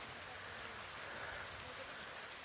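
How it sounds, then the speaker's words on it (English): Light drizzle falling on a campsite near a waterfall in Sri Lanka gives a steady, even hiss of rain across the whole stretch, with no voices standing out. "It just started to rain, and a small drizzle has developed into a little bit of"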